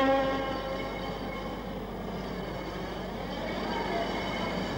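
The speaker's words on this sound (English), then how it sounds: "This is Britain's new advanced passenger train, the APT." Britain's Advanced Passenger Train (APT), a high-speed passenger train, rumbles past with a steady mechanical roar and a faint tonal hum, continuous and fairly close throughout.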